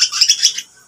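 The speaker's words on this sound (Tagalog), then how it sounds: "Sisiw pa po ito." A baby chick, hand-fed formula, gives a short burst of high, rapid chirps up close, loud and alone, lasting about half a second before falling silent.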